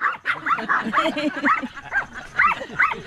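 A dog barks and yips at a drone in quick, excited bursts, fairly close, with people chattering underneath.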